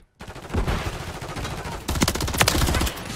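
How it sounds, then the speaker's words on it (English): SMG fire in Modern Warfare 3 comes as close, rapid bursts after a short silence, with a steady stream of shots and a second, sharper burst near the end. "I like how this gun feels. It's very smooth when you shoot."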